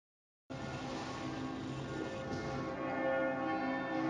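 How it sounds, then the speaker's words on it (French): Church bells ring continuously, a dense, sustained peal of many overlapping tones that holds steady and swells slightly louder toward the end, with no talk over it. "le mec il a lancé les cloches, mais ça fait 2 heures que ça dure"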